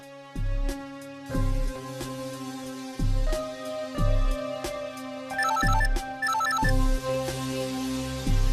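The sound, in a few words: phone ringing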